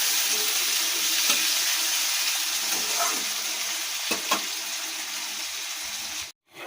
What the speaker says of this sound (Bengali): এই যে দেখো ফুটছে দেখতে পাচ্ছ